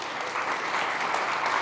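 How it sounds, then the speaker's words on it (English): An audience applauds steadily at a food event honoring an environmental justice activist, a dense, even clatter of many hands sustained throughout without voices. "so give him a round of applause."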